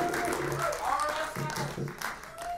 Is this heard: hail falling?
no